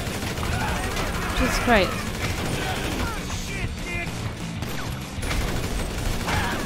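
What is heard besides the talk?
gunfire in video game Grand Theft Auto 5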